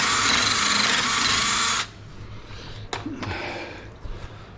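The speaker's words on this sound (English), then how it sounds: "Just kind of ream it out a little bit." A power drill reams out a hole during a custom fuel pump install on a 2nd Gen Cummins, whirring loud and steady for nearly two seconds before stopping, followed by quieter handling clatter.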